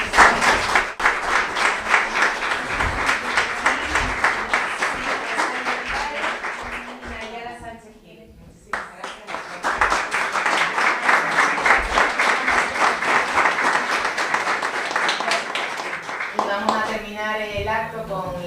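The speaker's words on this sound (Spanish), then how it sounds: "Un aplauso para ellas." An audience at a women's ingenuity event applauds in a long, full burst, pauses briefly while someone speaks, then breaks into sustained clapping again before speech returns at the end.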